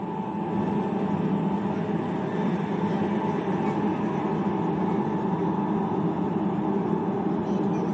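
High-speed KCIC400AF train running through Tunnel 1, a steady, loud, continuous rumble and roar with no breaks, heard from inside the carriage.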